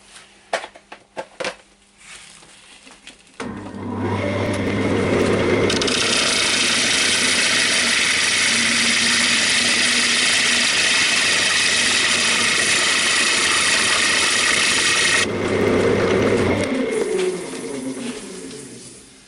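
A wood lathe turns a big bowl, with light clicks and knocks at first, then a loud, sustained gouge cut rasping and hissing close by for over ten seconds before easing off as the cut ends.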